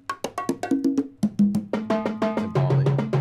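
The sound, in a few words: congas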